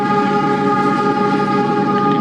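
Loud, sustained locomotive horn blaring over the rumble of the KA Sangkuriang passenger train speeding at night, heard from a carriage just behind the locomotive.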